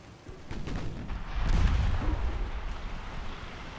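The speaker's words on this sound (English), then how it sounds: "those 7-inch guns are just nailing the poor Delhi" Broadside from 7-inch naval guns in a pre-dreadnought era naval battle game, a rolling series of heavy booms swelling midway and fading into a rumbling tail.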